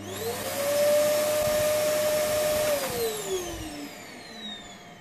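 A repaired electric chainsaw runs with a steady, high-pitched motor whine, then winds down as the pitch drops and fades after release, with no talk over it.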